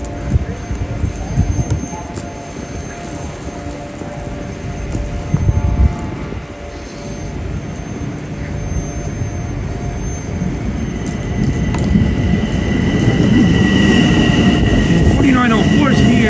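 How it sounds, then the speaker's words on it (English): An LIRR train, number 4904, passes westbound during the morning rush, with a steady rumble and rail noise that builds louder toward the end and a faint tonal whine over it. "here comes train 4904 coming from the west"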